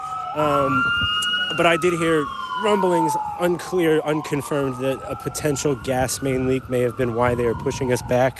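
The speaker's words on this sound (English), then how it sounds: "You can hear the sirens behind me." Emergency vehicle sirens wail steadily in the background at a plane crash scene, rising and falling, while a person talks continuously over them.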